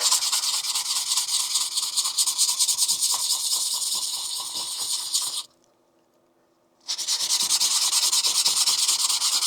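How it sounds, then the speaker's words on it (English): Wet sanding of a 3D print smoothed with UV resin and baby powder: a steady, close, gritty rubbing and scraping that runs continuously, stops for about a second and a half, then resumes just as loud. "Pretty much at that point now where I can do wet sanding."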